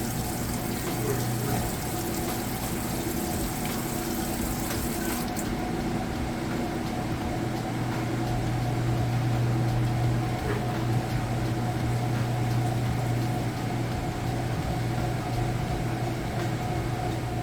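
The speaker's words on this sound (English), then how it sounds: "now it's getting started with that final spin" A Whirlpool Gold Series washing machine in its final spin cycle spins up with a continuous droning hum and rushing water, the motor tone shifting slightly as it runs.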